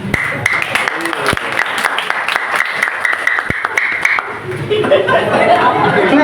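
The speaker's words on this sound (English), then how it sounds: "Oh, that is why he's clapping." An audience at a devotional class claps in a quick irregular patter, loud and close, with chatter and voices mixing in as the clapping thickens toward the end.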